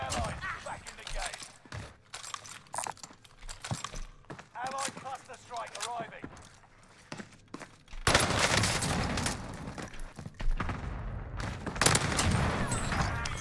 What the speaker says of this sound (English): this LMG goes nuts